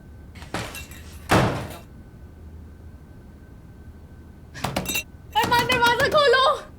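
A door is shut and banged hard, with two heavy thuds early on, then pounding and rattling near the end, as voices shout in a tense indoor scene.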